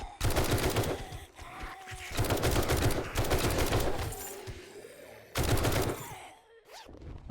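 Bursts of rapid automatic gunfire cut down radiated zombies in a modded 7 Days to Die, several loud chattering volleys separated by short pauses and growls.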